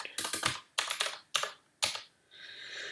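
Someone presses keys on a computer keyboard, including the return key: four quick bursts of crisp, close clicks with short pauses between, each burst a few rapid taps, then a faint fading hiss.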